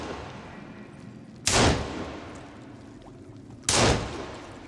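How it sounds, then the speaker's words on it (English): Two loud, close gunshots from a firearm in the video game Sons of the Forest, fired in a dark place, boom about two seconds apart over a low background rumble. "Trying to shoot by the light of my muzzle flare in here."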